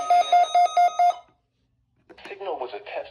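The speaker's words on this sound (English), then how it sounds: "Signal was a test of the NOAA radio warning alarm system" A NOAA weather radio warning alarm tone sounds from a National Weather Service office during a required weekly test, five loud, evenly spaced electronic beeps, then a pause before a voice begins speaking.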